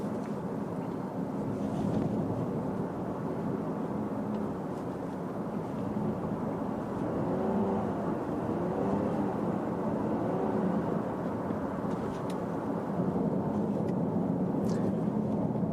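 A Lexus LBX hybrid, pairing an electric motor with an engine for about 180 horsepower, accelerates as a steady muted cabin drone with road and engine rumble holding level throughout and no talking.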